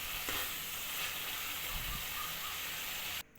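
Tomato masala fries in a pan, giving a dense, continuous sizzle close up with a few soft stirring sounds, then cutting off abruptly near the end.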